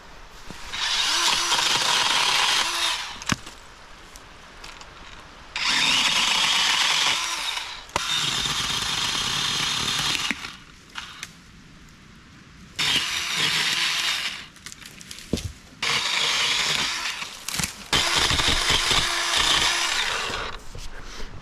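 Electric chainsaw trimming blown-down wood, loud buzzing cuts in repeated bursts of a few seconds each, separated by short quieter pauses, close and without talk.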